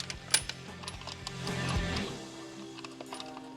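A ratchet drives in a bolt for a mid-frame air deflector on a 2023-and-later Harley Touring motorcycle. Close, quiet clicking pawl strokes come in short runs, separated by brief pauses.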